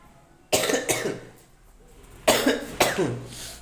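Two pairs of sharp coughs, close and loud, separated by a quiet pause of a little over a second.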